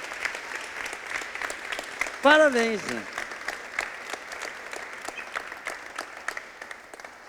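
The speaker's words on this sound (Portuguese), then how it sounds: "Salva de palmas para Jesus" Church congregation applause during a Thursday worship service, moderate steady clapping throughout with a brief spoken remark partway through.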